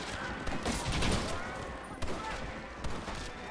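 Gunfire in Red Dead Redemption, a few distinct shots spaced among dense game ambience and action noise, moderately loud against a busy background.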